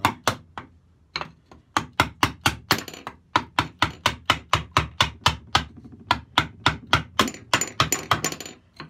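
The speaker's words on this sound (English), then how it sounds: "let's try and chisel out some of that, get rid of most of the waste" Chisel struck by a mallet cuts waste wood from a workpiece clamped on a workbench: a steady series of sharp, loud knocks roughly every third of a second, close by, with no voices.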